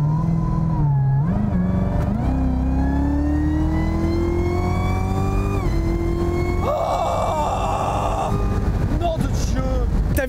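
A 650-horsepower car engine revs up and down in repeated rising and falling sweeps, loud and close, without talking.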